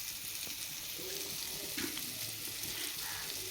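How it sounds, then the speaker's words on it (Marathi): Fish frying on a flat iron griddle over a wood-fired clay stove, a steady soft hiss and sizzle with faint crackles, fairly quiet and unbroken throughout. "आता मच्छी आपली फ्राय होत आहे तव्यावरती"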